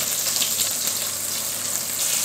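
Chicken thighs fry in a pan, a dense, steady hiss of sizzling fat that stays loud and close throughout, with no voices.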